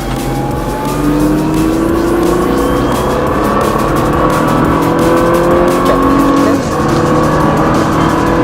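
A car engine pulls hard during a driving lesson, its pitch climbing steadily as it accelerates; the loud, continuous roar dominates throughout, with a slight dip near the end.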